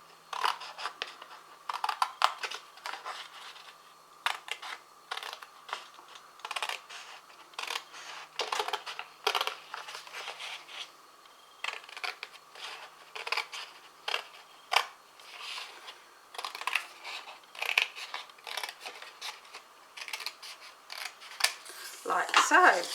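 Scissors cut through scored card stock while a double-fronted cascade card is being made, giving close, crisp snipping clicks in an irregular series that grow denser toward the end.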